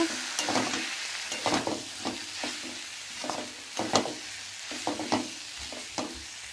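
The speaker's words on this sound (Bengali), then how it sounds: "সেদ্ধ ডালটাও ওর মধ্যে দিয়ে দিলাম। আবারও ভালো করে কষিয়ে নেব।" Fried mixed vegetables and boiled dal being stir-fried in a pan, a soft sizzle broken by repeated scraping strokes of a spatula in an irregular rhythm, close and alone without speech.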